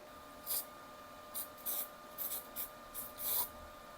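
Short bursts of spray paint from an aerosol can onto the threaded mirror mount of a Honda CG125 café racer motorcycle, about seven brief hissing puffs at irregular intervals, fairly quiet and close.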